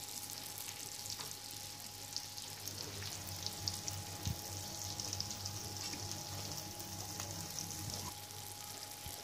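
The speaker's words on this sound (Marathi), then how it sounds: "हे जे आपले पाव आहेत ते मस्त की या बटरमध्ये असे चांगले गोळून घ्यायचे आहेत" Pav bread buns frying in melted butter in a pan for Mumbai-style pav bhaji, giving a steady close sizzle with faint crackles and one soft knock, no talking.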